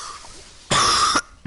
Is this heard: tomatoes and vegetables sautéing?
no